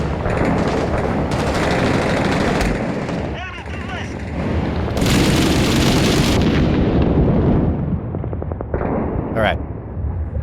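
Video game combat: loud bursts of gunfire and an M203 grenade launcher firing, with heavy blasts and rapid shots across the clip, interrupted by short gaps and a radio-style voice talking over parts of the action.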